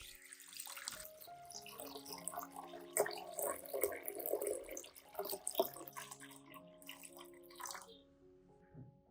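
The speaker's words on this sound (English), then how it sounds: "Then I add 2 liters of water and bring it to a boil." Water is poured into a pot of potato peels, making faint splashing and trickling with uneven bursts, and the pour quiets toward the end.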